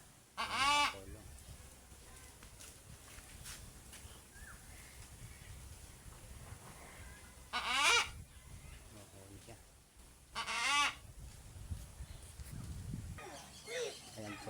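Large birds honk loudly in a few separate bursts, goose-like calls rising over a steady outdoor background with some low murmuring.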